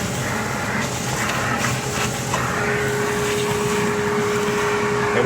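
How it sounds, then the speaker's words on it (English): A vacuum cleaner sucks dust out of a Carvey carving machine around the carved workpiece, a steady, loud, close rushing hum with a faint constant tone running through it. "Now it's letting the air go through, and you can vacuum out"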